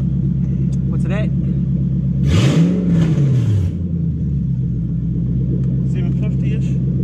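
A Toyota 1UZ-FE VVTi V8 swapped into a Mk3 Supra idles with a steady low rumble, then a single rev swells and falls away before settling back to idle, with talk over it.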